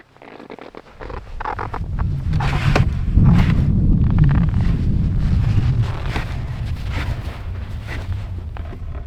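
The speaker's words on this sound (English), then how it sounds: "It's cold and windy outside." Wind gusts and roars steadily outside a snowy forest dugout, with strong rumbling buffeting against the microphone and faint crunching steps.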